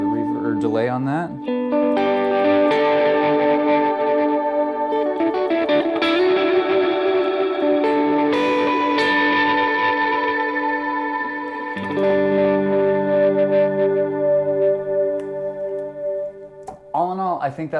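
Electric guitar played through a volunteer-friendly pedalboard with a different drive setting plus reverb or delay, sustained chords ringing and swelling for about sixteen seconds, loud and close, with echoing tails and no talking.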